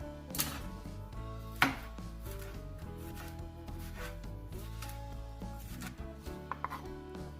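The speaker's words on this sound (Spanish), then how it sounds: "Ahora voy a picar medio pimiento." A knife finely chops half a bell pepper on a cutting board, giving quiet, steady tapping with a couple of sharper knocks, set against soft background music and no talking.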